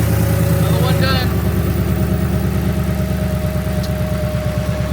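A Ford Mustang Dark Horse V8 idles right after its first start with new oil pump gears. The low, even, pulsing idle is loud and close, and there is a brief rise in revs near the start.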